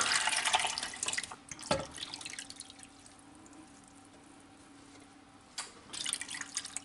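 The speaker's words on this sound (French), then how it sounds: "on va mouiller à hauteur d'eau, à hauteur du poisson, avec de l'eau froide" Cold water from a tap splashes and pours over fish pieces in a pot for a fish stock, a bright rushing stream that cuts off, leaves a quiet gap with faint drips, then gushes again close by.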